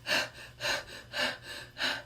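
A voice imitates panicked heavy breathing: four quick, rasping gasps in a steady rhythm, close and breathy, with no words.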